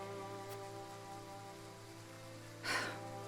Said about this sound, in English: we can wait out the rain here for the day